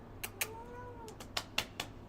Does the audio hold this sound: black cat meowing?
yes